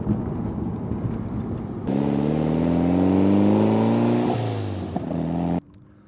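A Mitsubishi Lancer Evolution X accelerates hard in second gear under boost, reaching 31.2 psi peak. Its loud engine note climbs steadily for about four seconds, then cuts off abruptly. Wind rushes before and after the pull.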